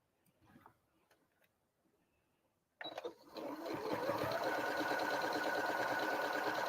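Quiet, sparse handling sounds give way to a sewing machine starting up and running steadily and loudly along a diagonal line on a Friendship Star quilt block, its rapid needle clatter continuing to the end.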